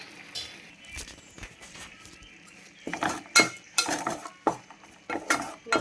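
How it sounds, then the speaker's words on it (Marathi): Besan (gram flour) roasting in a hot pot is stirred with a metal spoon, making irregular scraping and clinking strokes that grow busier and louder in the second half, with no talking. "आपण भाजून घेऊया चांगलं बेसनचं पीठ"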